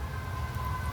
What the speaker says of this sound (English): is that an ambulance in the background?